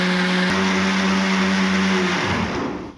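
An electric mixer grinder grinds batter for drumstick-leaf dosa, its motor roaring loud and steady with a strong whine before switching off and spinning down in the final second.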